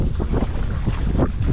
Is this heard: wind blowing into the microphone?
yes